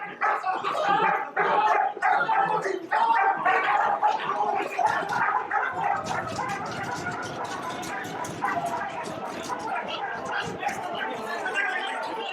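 Prison patrol dogs on a cell tier bark wildly and lunge against their leashes, a dense run of sharp repeated barks under overlapping voices and shouting, loudest early and persisting throughout.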